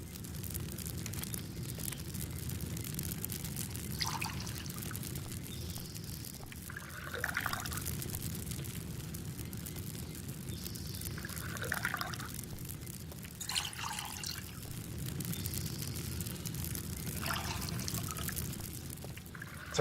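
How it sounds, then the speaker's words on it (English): Water poured into containers on a farm, with three separate pouring splashes a few seconds apart over a steady low background hum. "I might put some more water in these things then"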